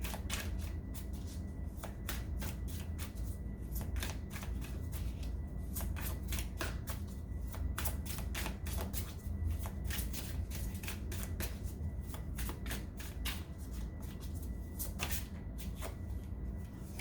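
Tarot cards being shuffled for a reading, a long steady run of quick riffling flicks and soft card slaps, close and continuous, with no talk.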